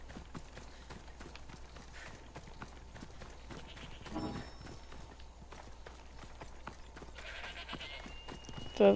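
Horse hooves clopping at a steady run in the Assassin's Creed Odyssey video game, a continuous rhythmic gallop under ambient game sound, with a brief louder burst at the end.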